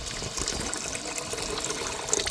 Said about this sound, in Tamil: அதே அளவு திக்னஸ்க்காக நம்ம தண்ணி சேர்த்துக்க போகிறோம்.